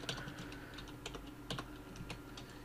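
Keys on a computer keyboard are typed in a quick, irregular patter of soft clicks, faint and close over a low background hum.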